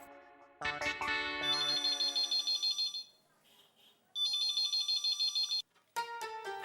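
An electronic phone ringtone plays in repeated melodic bursts with brief pauses between them, loud and close, with no talking.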